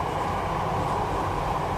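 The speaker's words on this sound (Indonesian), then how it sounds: "Ntar ada kereta." Train passing, a steady broad rumble and rushing roar at fairly constant loudness throughout, with no voices.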